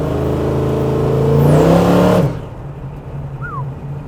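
A 1973 Dodge Challenger with a 340 V8 punched and stroked to 418 cubic inches and fitted with Holley Sniper fuel injection revs loudly up to a peak, then drops sharply to a rumbling idle, close by.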